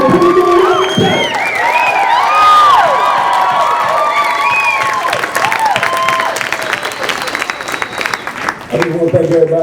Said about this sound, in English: So can we clap it up for the young minds, for the young world, for the young people?